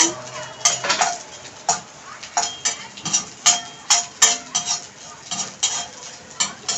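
Edible gum roasting in a pan for methi laddoos, with a spoon scraping and stirring in a steady rhythm of repeated clinks and scrapes over a soft sizzle, close and moderately loud.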